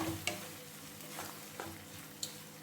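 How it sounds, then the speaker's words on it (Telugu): Onion and spinach frying in a pan, a steady low sizzle with a few soft clinks and stirring scrapes. No voices. "ఇప్పుడు ఇది బాగా వేగనిద్దాం"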